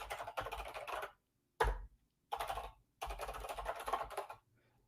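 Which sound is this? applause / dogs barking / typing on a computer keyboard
typing on a computer keyboard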